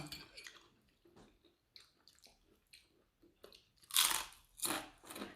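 Crispy fried fish gives a few sharp, close crunchy bites amid quiet chewing and mouth sounds, with the loudest crunches near the end.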